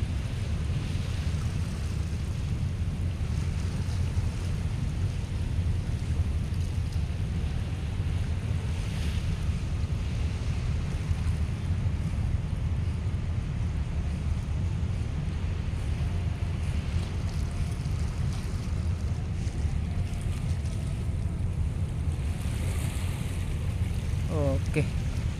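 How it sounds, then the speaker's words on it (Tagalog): Rough sea waves churned up by a typhoon, with steady, heavy surf and strong wind buffeting the microphone throughout, loud and continuous. "ito yung dagat natin ngayon medyo maalon kasi may bagyo tayo"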